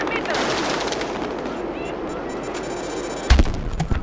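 Gunfire in Battlefield 2042, rapid automatic bursts and echoing battle noise, with a sharp heavy blast near the end, while a player talks excitedly over the shooting.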